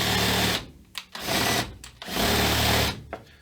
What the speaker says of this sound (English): So I basically drill them backwards